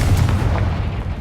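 The Confringo fire spell explodes in the Hogwarts Legacy video game, a loud, deep booming blast with a rumbling low-end body that rolls on and fades over about a second, heard alone.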